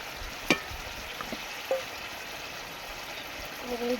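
Food seasoned with mustard paste, turmeric and salt fries in a pan, giving a faint, steady sizzle broken by a few soft clicks and scrapes of stirring, with no voices.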